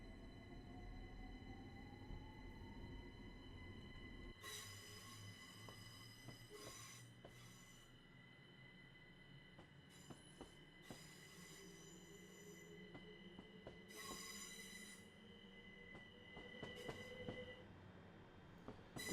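Train running on rails in the Train Simulator Classic game along a Great Western Railway route, a steady rolling rumble with occasional clicks and rising tonal whines, heard alone without talk.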